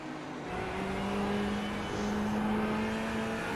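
Porsche race car at speed on the Summit Point circuit, a steady engine drone with a sustained tonal whine holding loud and even throughout, tires worn, with no talk over it.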